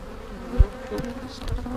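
Honey bees hum steadily around a hive holding a swarm on clean new wax foundation, a close, continuous buzz with a soft bump partway through and no talking.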